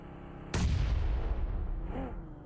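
A single sharp, heavy grenade blast in PUBG Mobile erupts after a brief quiet, then a long rumbling decay, with a faint voice briefly audible at the tail.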